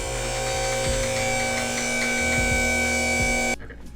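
An electric car lift raises a BMW G80 M3 in a workshop, its motor giving a steady, close droning hum with a pulsing low rumble that cuts off abruptly near the end.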